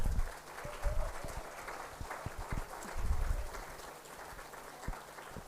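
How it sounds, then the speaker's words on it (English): At an award ceremony at MICA in Ahmedabad, an audience applauds as winners walk up, a faint, distant patter of scattered claps that swells slightly and then thins out. "A round of applause for them as they walk up."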